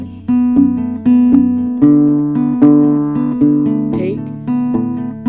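Guitar plays a finger-picked open-voicing pattern for a song's chorus, with steady repeated plucked chords in a driving rhythm, loud and close, with no talking.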